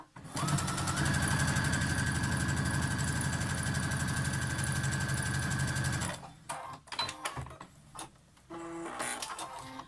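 A sewing machine stitches down the lined flap of a fabric face mask, a loud, even mechanical whir for about six seconds before it stops, followed by quieter scattered handling noises.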